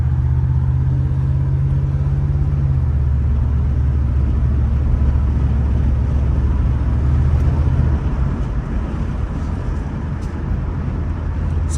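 A 1979 Oldsmobile Cutlass Supreme idles with a steady low engine rumble and hum, fairly quiet and even, with the tone shifting slightly partway through as it runs alone without talk.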